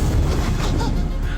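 A remote-detonated bomb blast set beside a dummy target, a dense, loud rumbling crash with low-end roar that fills the moment without a distinct onset.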